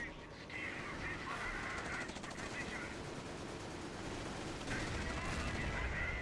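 Rapid bursts of machine-gun fire ring out in a war video game running the Blitzkrieg mod, sharp and clustered over a constant low background rumble.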